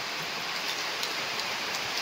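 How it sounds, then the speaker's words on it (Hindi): Heavy monsoon rain pours steadily during flooding in Balasore, a loud, dense, even hiss of drops with no break and no voices. "केते जोर वर्षा है भाई ये वर्षा"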